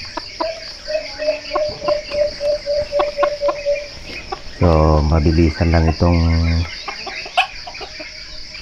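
A red junglefowl rooster in the Philippine outdoors is heard crowing in one loud, drawn-out burst after a run of rhythmic chirping calls, over constant insect buzz, with a brief spoken phrase nearby.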